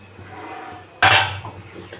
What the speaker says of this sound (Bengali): এখন একটু চাপা দিয়ে দেবো